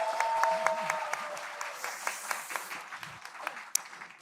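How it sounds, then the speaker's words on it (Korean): A crowd at a Democratic Party rally for local elections in Seoul applauds, steady clapping of many hands with a few cheers and a faint voice mixed in, gradually easing off. "우리 당대표님, 우리 비서실장 박수 한번 보내주시기 바랍니다."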